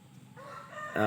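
A rooster crows loudly and close at the end, after a stretch of softer clucking from chickens in a flock of young and older birds.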